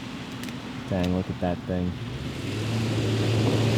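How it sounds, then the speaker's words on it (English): A bus engine draws closer, a low rumble that swells steadily toward the end, while people talk over the start. "I hear the bus, I hear a bus."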